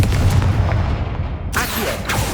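A Confringo fire spell blasting in the Hogwarts Legacy video game, a heavy booming explosion with a low rumble, followed by sharp bursts of debris and impact, loud and close.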